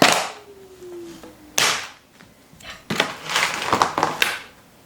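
Dry beans rattle and patter into a container in a few uneven bursts, close and crisp, with quiet gaps between pours.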